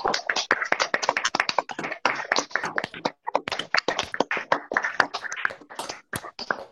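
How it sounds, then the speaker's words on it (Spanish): Scattered applause from webinar participants with open microphones for a veterinary speaker, irregular claps of varying loudness, thin and close, continuing without pause. "Entonces demos un aplauso al doctor Lemier."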